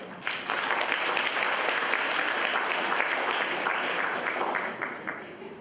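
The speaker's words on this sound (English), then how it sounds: "Please give her a round of applause" Audience at a school senior pupil panel event clapping steadily, a dense burst of applause that holds for several seconds before tapering off.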